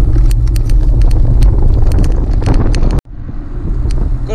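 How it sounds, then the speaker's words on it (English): Fast-moving traffic on a low-quality Greek road rushes past a touring cyclist, a loud continuous roar of passing vehicles buffeted by heavy wind noise, cut by a brief dropout near the end. "the traffic's fast moving"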